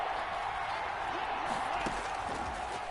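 Stadium crowd noise in a Madden football video game forms a steady, dense roar of a large cheering audience, holding level throughout with faint thumps beneath.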